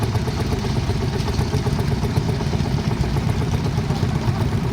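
A red Ferguson TEA petrol tractor with low-mounted exhaust runs steadily and loudly at a vintage vehicle show, its engine chugging without pause throughout.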